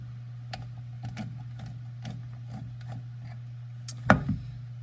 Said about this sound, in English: you want to go clockwise to remove the nut on the right side pedal